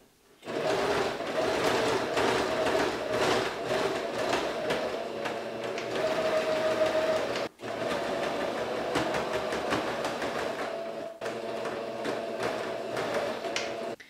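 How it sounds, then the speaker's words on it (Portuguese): A sewing machine runs in one steady, loud stretch while topstitching around the fly and facing of men's shorts, its motor whirring with rapid needle clatter, pausing briefly once before stitching on. "Eu bati um pesponto aqui em volta, ó, prendendo a parte de baixo aqui, ó, dessa partezinha da lapela."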